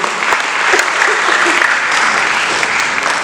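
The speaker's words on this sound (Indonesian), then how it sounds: "Beri tepuk tangan yang meriah sekali lagi." Enthusiastic audience clapping after a Niskala Seblang dance performance at a cultural festival, dense and steady applause filling the whole moment.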